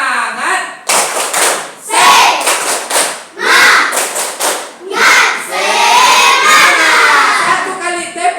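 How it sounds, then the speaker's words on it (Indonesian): Classroom of children shouting a rhythmic clapping chant together, loud bursts of unison voices punctuated by sharp hand claps in a steady pattern, with a teacher's voice leading between phrases. "Kita coba tepuk semangat."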